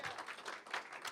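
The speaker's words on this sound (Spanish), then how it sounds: "Dele un aplauso a Jesucristo esta mañana" Church congregation applauding loudly during a Spanish-language service, a dense, steady wash of clapping across the whole moment with no speech over it.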